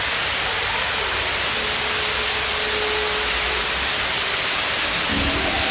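Steady broadband hiss of rain falling at Al Khor Park and Zoo, continuous and even throughout, with no voices.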